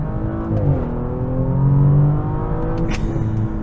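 A 2023 Audi S6 in dynamic mode accelerates hard in first gear, engine and exhaust note sweeping upward in steady loud pulls with rising harmonics, close and continuous with no talk.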